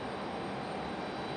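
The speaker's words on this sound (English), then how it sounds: "That Delta CRJ with a super smooth touchdown" A Delta CRJ jet landing on runway 23 right at an airport in stormy weather gives off a steady, broad engine roar, distant and unbroken.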